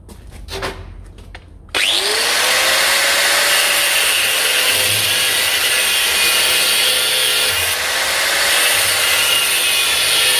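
Power saw cutting a piece off half-inch steel round bar in a blacksmith shop: after a brief quieter start the tool kicks in loudly and grinds steadily and continuously, with a rising whine settling into a sustained cutting drone.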